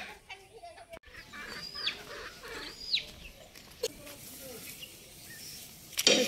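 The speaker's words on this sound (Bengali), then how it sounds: "সারাদিন এই মুরগির কটকট কটকট শব্দে মাথা একদম ব্যথা হয়ে যায়।" Chickens cluck and squawk in short scattered calls around a farmyard, with a sharp louder cry near the end, over a low background murmur.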